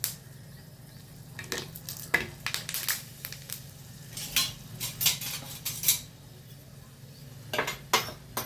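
Ready-made chillies stuffed with a spiced yogurt filling fry in oil in a pan, a low sizzle running underneath repeated sharp clinks and scrapes of a metal utensil against the pan.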